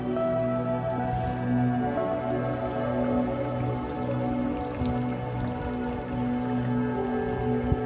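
Spring water at a small grotto drips and trickles steadily in a soft, continuous wet patter, close by and fairly quiet, with no talk over it.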